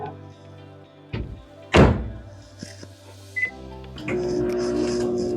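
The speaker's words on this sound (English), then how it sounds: "I'm gonna microwave this for about 30 seconds." A microwave oven heating chocolate for a bacon dish: a door thunk and clatter, a brief beep, then a steady low electrical hum of the oven running near and alone.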